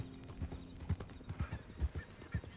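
Hooves clip-clop in quick, uneven beats as a herd of horses runs in the video game Red Dead Redemption 2, fairly faint, with a brief whinny-like sound at the start.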